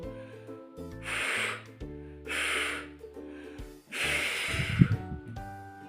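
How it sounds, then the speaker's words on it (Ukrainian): Children in a preschool literacy lesson blow air at a balloon in a speech-breathing exercise, three long breathy puffs in a steady rhythm over faint background music. "Подмухаємо на кульку."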